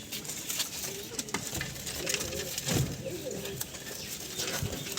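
Mukho pigeons with black eyes coo in soft repeated low phrases inside a loft, mixed with rustling, faint chirps and other background clatter throughout.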